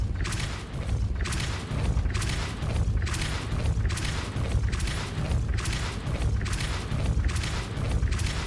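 Hogwarts Legacy spellcasting such as Depulso comes through as a rapid series of heavy booming impacts with whooshing bursts, evenly repeated about every half second and loud throughout.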